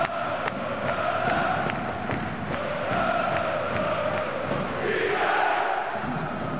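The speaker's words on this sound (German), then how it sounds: "Und natürlich wird jetzt gefeiert hier im Stadion." Football fans celebrate in the stadium at an Offenbacher Kickers versus FC 08 Homburg match, a dense, steady roar of crowd chanting and cheering that swells and holds throughout, with loud, sustained massed voices.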